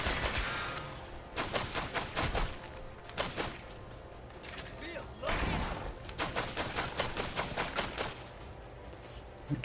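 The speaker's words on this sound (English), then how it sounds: "There's a little delay on the shooting when it actually starts to happen." Loud gunfire from weapons in the top-down co-op shooter Killsquad, fired in rapid volleys with short pauses between bursts, while a voice talks over the shooting.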